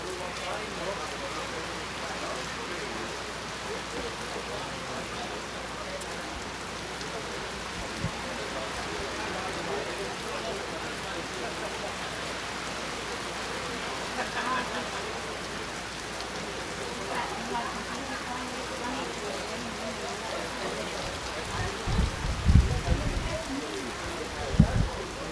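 Rain falls steadily at a FootGolf championship in Acapulco, an even broadband hiss of drops on surfaces, with a few low thumps and knocks near the end.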